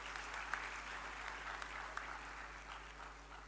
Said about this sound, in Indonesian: Boleh tepuk tangan ini, yang keras nggak apa-apa.